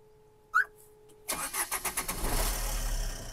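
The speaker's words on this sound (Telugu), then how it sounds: "నెక్స్ట్ ఒకసారి కార్ స్టార్ట్ చేసి చూద్దాము" A brief chirp sounds, then a Tata Zest car engine cranks with a rapid pulsing rhythm and catches, settling into a steady, fairly loud idle close by.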